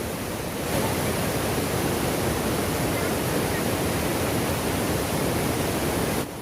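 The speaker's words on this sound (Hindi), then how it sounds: "पहलगाम में इस नदी किनारे बैठ के आवाज सुनिए आप लोग सब नदी की" A river rushes past the bank at Pahalgam, a steady, dense broadband roar of flowing water that stays loud and even throughout, close by, with no voices over it.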